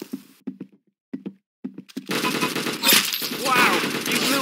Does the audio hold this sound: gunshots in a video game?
yes